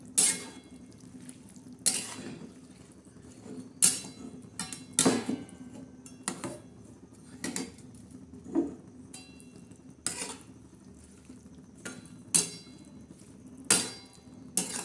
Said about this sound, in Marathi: आता हे दोडकी सोडले मस्त असं हलवून घेणार आहोत